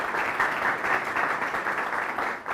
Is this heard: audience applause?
yes